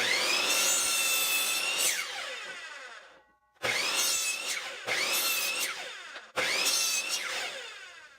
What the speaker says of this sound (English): I'm now going to cut a 45 on every corner